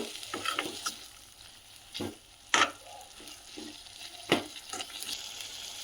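Green chilies and tomatoes frying in a pan for chutney, a soft sizzle under several close, sharp scrapes and knocks of a spoon stirring the pan, with no talking.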